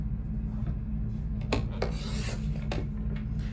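Blade cutting a 6-inch paper scrap down to a 1-inch strip for a card, a quiet scraping rasp over a low steady hum, broken by a few sharper slicing strokes.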